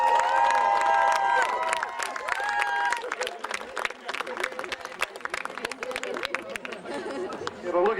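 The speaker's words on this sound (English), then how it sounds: "Come on, huge cheer." Crowd at the St Andrews Highland Games cheering runners to the finish, scattered claps and shouts under bagpipe music in the first few seconds, then choppy cheering and applause mixed with nearby voices.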